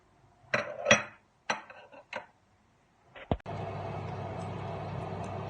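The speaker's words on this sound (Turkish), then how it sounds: "Şöyle fırına dayanıklı bir kabımızın içine de suyumuzu altına veriyoruz." An oven-safe dish holding water is set into a hot oven, heard as a few close clinks and knocks of cookware, followed by a steady hum of the running oven, with no talk.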